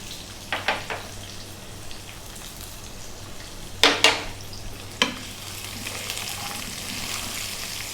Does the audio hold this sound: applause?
no